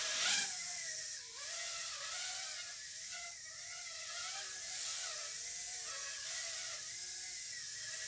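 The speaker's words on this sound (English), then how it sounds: "I'm just gonna try and go for a little flight in the house and see if you can hear it" A tiny FPV Twig drone flies indoors around a house, giving a steady, faint high-pitched whine whose pitch bends up and down as the throttle changes, with no talk over it.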